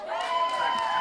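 An audience cheers and applauds at a music composition meetup, giving it up for the sound engineers; a short burst of crowd noise rides over a sustained musical tone.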